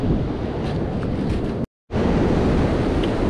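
Strong wind buffeting the microphone with roaring ocean surf on a beach set up for surf fishing, loud and continuous, briefly cut to silence for a moment midway before resuming.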